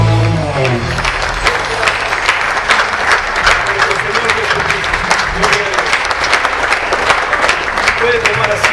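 A church congregation at a Spanish-language service applauds in a dense, sustained wash of clapping that holds steady throughout, with a few voices mixed in.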